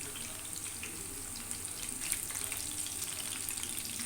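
Fish frying on a tawa, a steady close hiss and sizzle of oil that continues throughout, with no voices.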